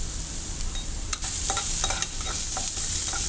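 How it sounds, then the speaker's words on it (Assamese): Onion, chilli and ginger-garlic paste stirred in a hot pan, a loud, dense sizzle of frying with a few light scraping and clicking strokes of the spoon over it, close and without voices. "এয়া মই পিঁয়াজ, জ্বলা আৰু আদা নহৰু পেষ্ট অকণমান দি এনেকৈ অকণমান লৰাই দি"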